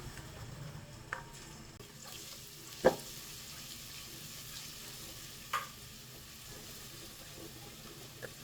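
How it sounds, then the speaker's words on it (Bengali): Garlic paste sizzles quietly in hot soybean oil with beef in a pan, a soft steady frying hiss with a few scattered clinks and stirring knocks. "এখন আমরা রসুন বাটাটা দিয়ে দিলাম।"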